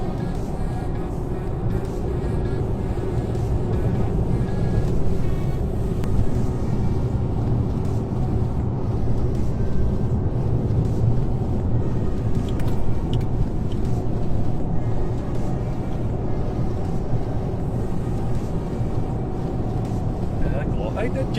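Car fitted with Pro-Forge upper control arms driving over an undulating road, giving a steady, close interior road and engine rumble with tire noise, constant throughout with no clear speech.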